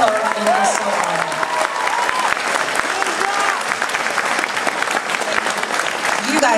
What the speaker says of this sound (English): You guys should be giving applause to yourself.